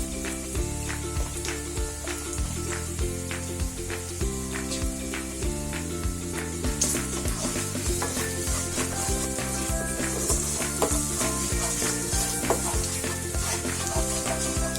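Garam masala and cumin sizzle and fry steadily in a hot pan, a continuous close crackling hiss with occasional stirring scrapes and no talk.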